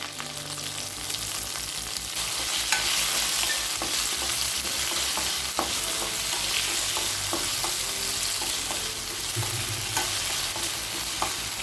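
Okra sizzles in a pan with salt while being sautéed for mor kulambu, a steady close frying hiss broken by repeated scraping and clinking spatula strokes.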